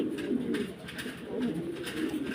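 Pigeons coo steadily in low, throaty murmurs, several birds overlapping in a continuous rolling chorus close by.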